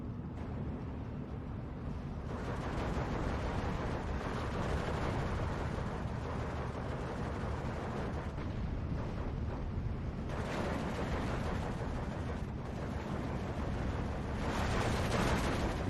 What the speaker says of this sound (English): Just got a crossfire going on here.